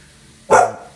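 A single sharp dog bark rings out suddenly after a quiet moment, close and loud, then fades quickly.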